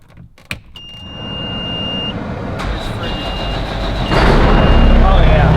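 Peterbilt 379 stretched truck's engine cranks and fires up, rising to a loud, steady diesel rumble after a few seconds of chimes and beeps, with someone speaking.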